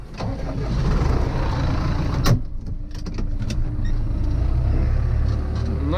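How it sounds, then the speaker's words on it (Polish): A John Deere tractor engine cranks and fires near the start, then settles into a loud, steady low idle rumble that continues throughout, with a sharp clunk partway through. "Palimy maszynę i jedziemy."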